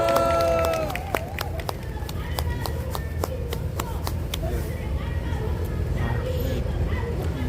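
Crowd applause at an outdoor candlelight rally in Ansan's square on a cold night, calling for President Yoon Suk-yeol's removal: a dense, steady wash of clapping with sharper individual claps at the start that settles into a sustained roar.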